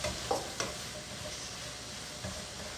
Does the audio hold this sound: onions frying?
yes